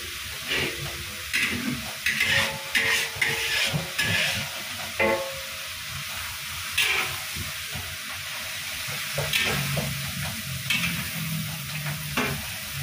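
Garlic frying in hot oil for a Padang-style dish, a steady close sizzle with frequent stirring scrapes and taps of a utensil against the pan, bursts of activity between calmer stretches, no talking.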